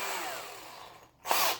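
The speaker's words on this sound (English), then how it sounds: "just a little bitty bit to pre-drill a hole" A power drill with a small bit pre-drills a hole in MDF for a speaker box, whirring steadily and close, then pausing briefly before a louder, brighter burst of drilling.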